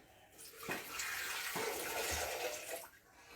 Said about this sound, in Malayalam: ഇത് വെള്ളം ഒഴിക്കുന്നു.